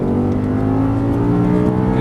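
An Audi R8 on a race track pulling hard under throttle out of a corner, a loud, steady engine drone with layered harmonic tones and a gently rising pitch, close and continuous with no talk.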